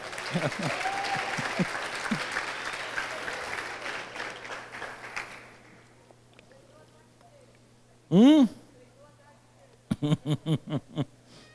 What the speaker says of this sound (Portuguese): Pode aplaudir, esteja à vontade.